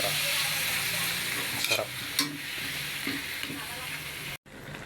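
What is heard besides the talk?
chicken being sautéed in a frying pan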